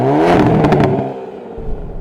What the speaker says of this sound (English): those upshifts are so freaking fast